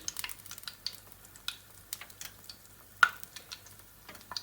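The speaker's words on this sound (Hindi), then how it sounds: "इसके अंदर अब मैं ये कबाब डाल दूंगी और इसको गोल्डन ब्राउन होने तक फ्राई करेंगे" Egg potato kebabs frying in hot ghee: quiet, scattered sizzling pops and crackles at an irregular pace, with one sharper tick of a utensil partway through.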